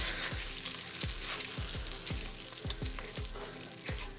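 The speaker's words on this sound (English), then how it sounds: "I'm going to add a little bit more oil and scrape that up" Oil sizzles hard in a pan of steak drippings while a utensil scrapes up the browned bits in about eight quick, evenly spaced strokes over a constant crackling fry.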